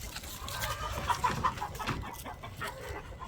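Chickens cluck and murmur close by in a short burst of soft, overlapping clucks and squawks.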